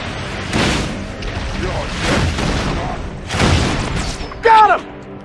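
In Halo 3 ODST, turret gunfire comes as several heavy booming bursts spaced a second or so apart, loud and close, with a voice briefly shouting near the end.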